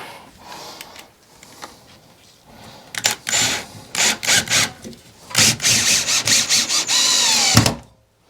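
Power drill driving a couple of screws through wooden shed furniture, short buzzing bursts at first, then a series of louder pulsed whirs and a final sustained run that cuts off abruptly, close and without talk.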